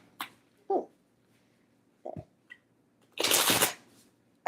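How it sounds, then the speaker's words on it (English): A deck of cards is shuffled close by: a few brief flicks and taps, then one dense riffling burst lasting about half a second, with quiet gaps between. "I can actually shuffle these cards."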